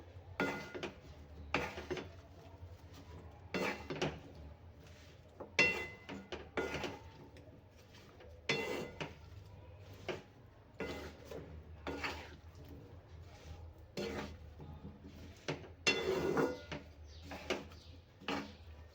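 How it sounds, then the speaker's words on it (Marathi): Carrot, radish, ginger and green chili are mixed in a bowl for pickle, giving a steady run of scraping clinks and knocks at close range with no talk. "कॅरेट मुळा अद्रक आणि हिरवी मिरची आणि छान मिक्स करून घेऊया"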